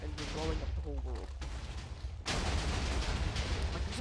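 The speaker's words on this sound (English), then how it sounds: "we're blowing up the whole world" Rumbling blasts and crackling bursts from a video game follow a short stretch of talking, with a heavy, continuous roar of explosions in the second half.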